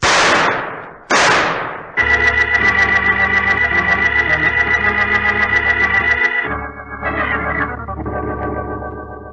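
Two loud, sharp pistol blasts fired at a door lock in a radio drama ring out one after the other, then music swells up and carries on.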